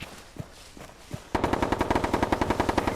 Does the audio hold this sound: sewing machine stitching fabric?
no